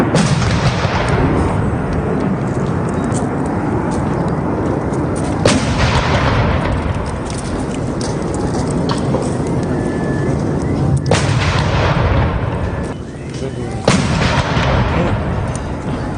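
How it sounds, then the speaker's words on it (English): Artillery guns fire a 21-gun salute at a state honour ceremony, heavy booms landing at intervals over a constant crowd and outdoor rumble, some blasts sharp and near, others dull and distant. "And 21 gun salutes were done in his honor."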